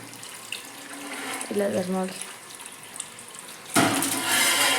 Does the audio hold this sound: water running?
yes